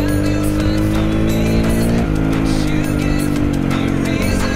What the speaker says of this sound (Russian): Там еще машина, похоже.